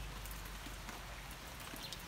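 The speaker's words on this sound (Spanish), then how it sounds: "Aquí está lloviendo." Quiet, steady rainfall patters down in the countryside over a vegetable garden and fruit plants, a soft continuous hiss dotted with faint individual drops.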